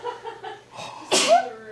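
A single close human sneeze bursts out after a few soft breathy intakes, sharp and brief near the end, indoors and quiet.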